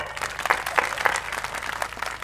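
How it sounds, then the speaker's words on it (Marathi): Audience at a Marathi kirtan clapping, a dense burst of hand claps from a seated crowd that swells and then thins out over a couple of seconds. "लोखंडे साहेब, टाळ्या वाजवा"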